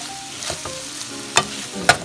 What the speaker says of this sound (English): Now that everything is good and stirred and fried and mixed, let's turn off the skillet.